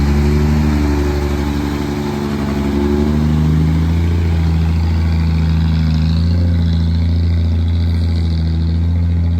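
A water pump engine runs nearby with a loud, steady mid-pitched drone that rises slightly as if revving, then holds a constant hum with no voices.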